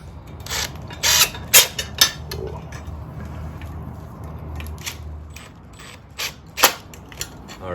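Bolts being snugged up on a Rugged Ridge Arcus steel bumper on a Jeep JL/JT, scattered sharp metallic clicks and ratchet-like clinks in short bursts, close and moderately loud.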